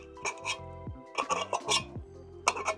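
A utensil scoops tuna from a metal can, giving a few light scraping, clinking taps of metal on metal, close and quiet, spaced irregularly amid a soft low hum.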